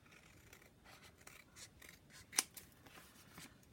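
Scissors trimming small paper pieces for a handmade flip book: quiet, close cutting and rustling, with one sharper snip near the middle and no talking.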